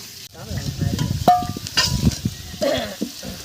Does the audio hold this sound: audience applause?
no